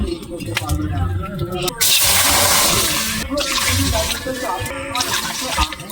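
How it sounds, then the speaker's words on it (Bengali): Water from a bowl poured into a hot kadai on a lit stove, three bowlfuls in all, for sugar syrup: a loud, continuous rushing splash with short breaks between pours, voices talking underneath. "এবার এই বাটির আমি 3 বাটি জল দেব"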